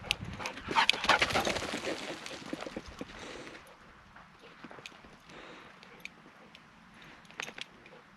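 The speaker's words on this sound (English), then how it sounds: "This is our morning dog exercise." A dog pants hard and scrambles during a morning run on steep desert terrain at Valley of Fire State Park, the breathy rush loud and close at first, then fading to softer scuffs and footfalls.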